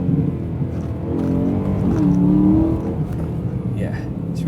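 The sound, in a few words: BMW E9x M3 revving with Milltek V2 valved exhaust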